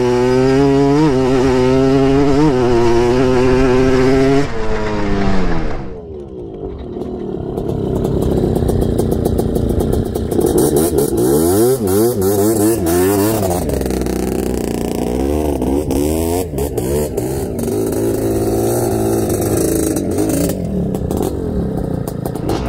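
A Yamaha TRI-Z 250 three-wheeler runs on sand dunes, its loud engine near and constant, idling steadily, then revving hard and surging with shifting pitch as it climbs away, no voices over it.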